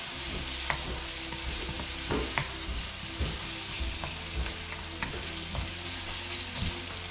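Onion and garlic fry in a pan with a continuous close sizzle, broken by repeated clinks and scrapes of stirring at an uneven rhythm, with no talking.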